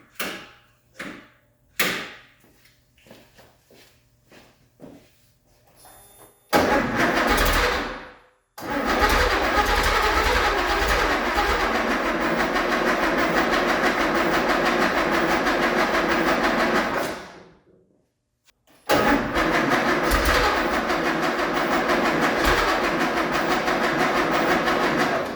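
A Porsche 911T engine cranks, catches and roars to life, running loud and steady with revs, cuts out briefly, then restarts and keeps running, preceded by close clicks and clunks.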